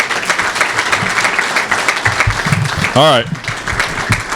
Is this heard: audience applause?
yes